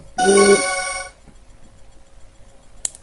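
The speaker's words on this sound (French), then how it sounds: "il y a juste cette sonnerie qui est comme dire chiante" A phone's incoming-message ringtone plays once as a bright, loud, tonal burst of about a second, then cuts off, leaving a quiet room with a faint click near the end.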